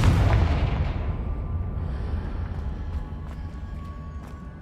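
A Confringo spell blast in Hogwarts Legacy erupts as a loud, deep boom that rolls on in a long rumbling decay, with faint crackling debris over the tail.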